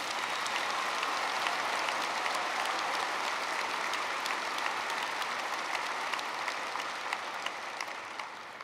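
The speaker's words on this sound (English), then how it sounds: "Can we please give all our amazing staff a well-deserved round of applause?" Graduation audience at Rock Canyon High School gives staff a sustained round of applause, a dense steady wash of many hands clapping that fills the hall for several seconds without pause.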